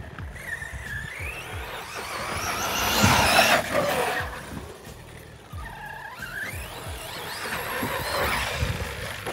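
A Big Block Kronos RC car on a 6S battery runs a lap on a dirt track, its high electric motor whine rising and falling with throttle bursts and tire scrabble, close and steady throughout.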